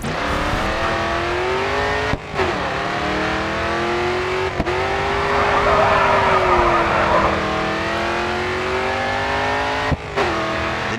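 A race car in GRID 2 drifts through a corner, its engine holding a loud, sustained rising and falling whine with brief gear-shift dips and a band of tire squeal in the middle.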